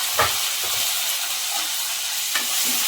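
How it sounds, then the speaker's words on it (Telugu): Curry leaves crackle and sizzle as they drop into hot oil for a tempering over dal with carrot and capsicum fry, a steady broadband hiss with a few sharper pops and stirring knocks, close and alone. "ఇప్పుడైతే కరేపాకు వేస్తున్నాము"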